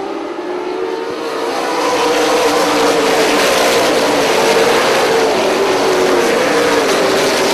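Late model race cars roar around an oval track together, with a loud, continuous, dense engine drone that swells slightly early on and then holds steady throughout.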